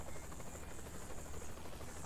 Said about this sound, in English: Get in the helicopter.